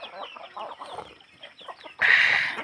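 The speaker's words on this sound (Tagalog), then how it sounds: "Ganso, pato, manok, at saka ibon." Chickens cluck and chatter close by on a rural farm in the countryside, a busy run of short calls ending in a louder, harsher burst of squawking.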